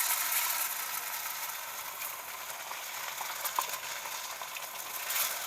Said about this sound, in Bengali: তেলটা গরম হয়ে গেছে, এখানে আমি এখন মাছটাকে আস্তে করে দিয়ে দেব।